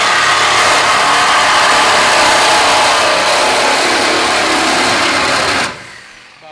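A saw blade cutting through a frame bar on a Foxbody race car: a loud, continuous, harsh grinding hiss held steady for several seconds, close up, then tapering away quickly as the cut ends.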